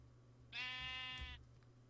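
A single Minecraft sheep bleat, one harmonic, nasal call lasting under a second and standing out clearly against quiet game ambience.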